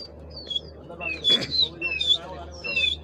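Racing pigeons released in strong wind chirp and call in short, scattered bursts over a low background rumble, with a brief louder whoosh midway, like wings or wind.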